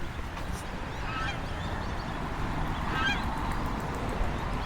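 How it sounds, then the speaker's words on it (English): Ducks flying over a park honk in a few scattered calls against a steady wash of outdoor background noise, distant rather than close. "Oh, look at the migration of ducks."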